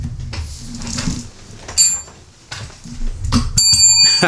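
A small bell rings twice with bright, sustained metallic tones, separated by soft rustling and low handling bumps close by.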